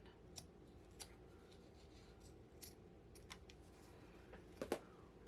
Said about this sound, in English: I'm going to go ahead and snip off a little part of it.